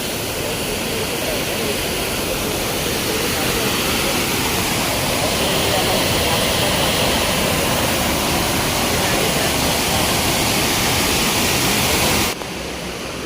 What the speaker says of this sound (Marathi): हा धबधबा आहे पाणी पण खूप आहे